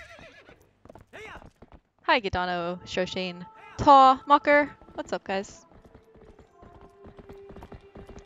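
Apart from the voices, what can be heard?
horse galloping and neighing ASMR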